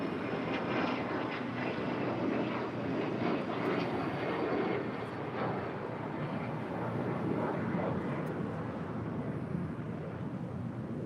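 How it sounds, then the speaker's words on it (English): A heavy jet airliner departs from LAX, its engines giving a broad, steady roar heard from a distance, holding level throughout with no talk over it. "Will be the next heavy departure on the north side and 24 left."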